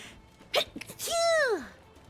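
A single sharp human sneeze bursts out, followed by a drawn-out, sliding vocal wail as it trails off, close to the microphone over faint background noise.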